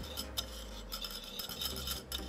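A whisk scrapes and clinks steadily through a dry mix of cane sugar and pectin for a vegan recipe, making a continuous close-up rasping swish with light metallic ticks.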